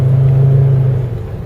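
Audi 5000 S station wagon with a five-cylinder engine cruising down the road, a steady low engine hum and road rumble holding even throughout, close and fairly loud with no talking.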